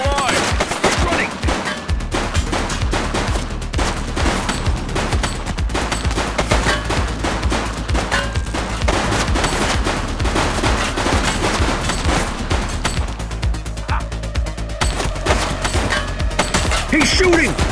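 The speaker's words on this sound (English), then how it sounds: "He's shooting!" Suspect's gunfire in the police game The Precinct, heard as dense repeated shots over a busy, loud game soundscape with music-like tones and occasional voices.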